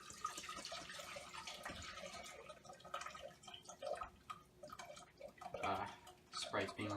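Sprite and pineapple water poured and mixed together, giving splashing, dripping liquid sounds of varying strength with a few louder gushes toward the end.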